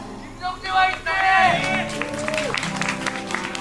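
Fans cheer and applaud at a 2010 StarCraft II GSL tournament match, with a crowd roar swelling and staying loud beneath a commentator's voice.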